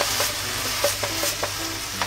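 Chikuwa fish cake and mushrooms stir-fry with fresh grated ginger in a pan over medium heat: a continuous close sizzle with a few light clicks and scrapes of stirring.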